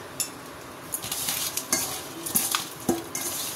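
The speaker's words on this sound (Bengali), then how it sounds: "নুন হলুদটা মাখিয়ে নিই।" Pabda fish being rubbed with salt and turmeric by hand in a metal dish in a home kitchen, giving close, irregular wet rubbing, scraping and light clinking sounds with no talk.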